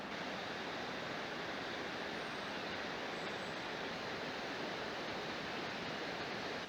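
Roar of the Gregorčič waterfall near Kobarid, a steady, dense rush of falling water that stays loud and unbroken throughout, with no voices.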